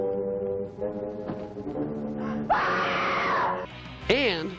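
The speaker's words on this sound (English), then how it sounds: "the most incredible screams you will ever hear, like this one" A piercing scream from the 1958 horror film Night of the Blood Beast rises sharply and holds as a loud wail over a murky soundtrack, then breaks off with another brief shriek near the end, all close and up front.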